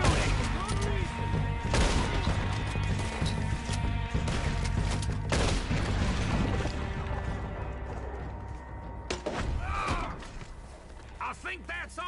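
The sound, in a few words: gunfire in video game Red Dead Redemption 2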